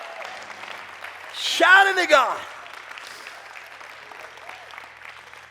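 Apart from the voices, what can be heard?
church congregation clapping hands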